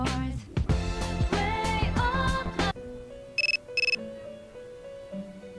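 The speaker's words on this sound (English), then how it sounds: "Your cell phone is ringing." A cell phone rings in the video game Persona 3 Portable: a loud, bright electronic melody of several notes, then sparse beeping tones and a few quick double chirps.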